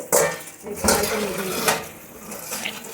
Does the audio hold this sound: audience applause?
no